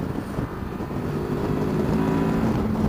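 A 2016 Honda VFR 800X Crossrunner engine drones steadily while riding, with wind rush and a low, even growl that climbs slightly in pitch, heard alone and close.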